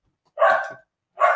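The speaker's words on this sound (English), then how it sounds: "He doesn't understand how loud these bark is." A deaf dog gives two loud, close barks separated by a short pause, with silence around them.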